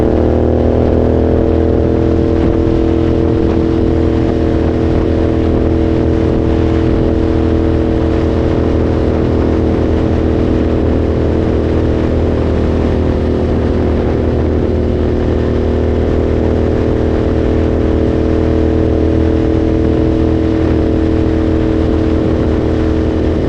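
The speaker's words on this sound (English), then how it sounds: "that was my little test ride of the Royal Enfield Continental GT" Royal Enfield Continental GT motorcycle engine on a test ride, a loud, steady droning hum with constant wind rush throughout, holding an even pace with no talk.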